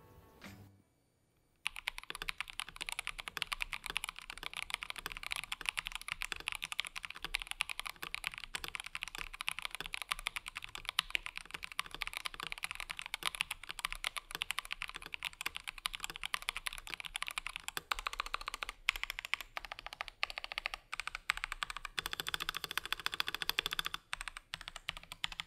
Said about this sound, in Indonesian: Coba kita dengerin dulu typing testnya.